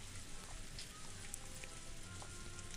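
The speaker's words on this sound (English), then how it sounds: "It began to rain later than the weather report had predicted." Soft rain falls on a surface in a quiet, even patter with a few scattered drops standing out, faint and continuous with no voices, set in the game Umineko When They Cry.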